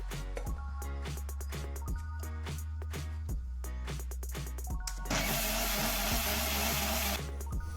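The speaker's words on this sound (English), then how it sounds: "You can see I have blended it perfectly." An electric mixie jar blender grinding roasted lentils into paruppu podi with salt and hing powder, starting in short rattling pulses that give way to a continuous loud whirring grind near the end.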